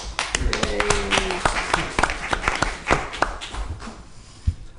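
Scattered hand claps from a small group at a city council meeting right after a vote, a run of sharp separate claps that thins out and stops near the end.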